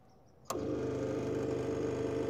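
A 15 kW MEP-804A military diesel generator fires up abruptly from near silence and settles straight into a loud, steady cold-engine running drone.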